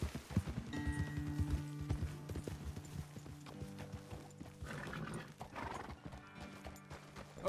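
Horses in the Western game Red Dead Redemption 2 clip-clop at a walk and let out a whinny, the hoofbeats close and fairly faint over a soft backdrop.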